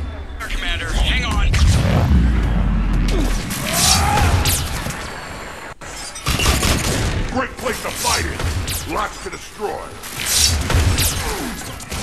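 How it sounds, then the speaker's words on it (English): Mass Effect 3 combat with bursts of gunfire, crashes and thuds, loud and near, mixed with speech and game dialogue throughout. "Just following the gunfire."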